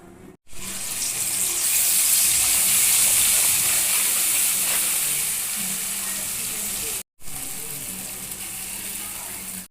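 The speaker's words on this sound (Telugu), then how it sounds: "ఈ పేస్ట్ని ఆయిల్లో వేసేద్దామండి డైరెక్ట్గా." Blended masala paste for dhaba-style egg kurma hits hot oil, giving a loud, steady hissing sizzle that fills nearly the whole stretch, with a brief break near the end before the frying resumes.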